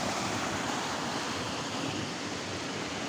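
Spring water containing pyrite flows steadily during the dry season, a continuous broadband rush with no breaks, fairly close and even in loudness, with no voices.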